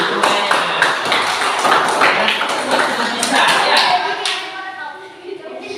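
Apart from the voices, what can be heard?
class of children clapping hands together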